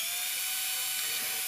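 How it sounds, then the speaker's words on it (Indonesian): Power drill boring holes into a Hyundai Verna body kit panel, a continuous high-pitched whine held steadily for the whole stretch, close and loud with no talk. "Oke, kita bor semua."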